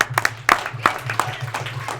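Scattered, uneven clapping from a live show audience as ladies stand up, a few sharp distinct claps over a low hum rather than a full ovation.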